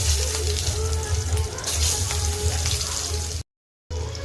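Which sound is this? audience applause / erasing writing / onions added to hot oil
onions added to hot oil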